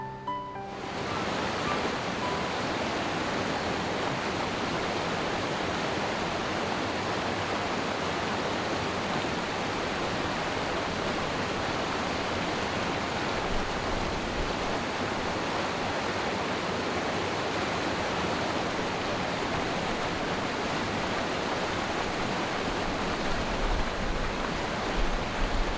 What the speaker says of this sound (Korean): 하지만 이내 급류를 타고 쏟아지며 물보라를 일으킵니다.